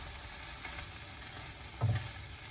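Shrimp cook in lemon juice in a pan for fried rice, making a soft, even sizzle with faint stirring. One brief louder scrape comes near the end.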